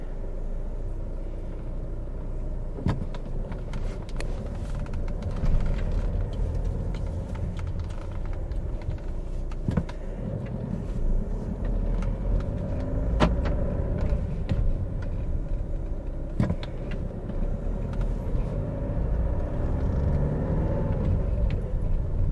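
A VW Jetta MK6 drives gently on the road, giving a steady low engine and road rumble throughout with a few faint knocks and clicks, no talk.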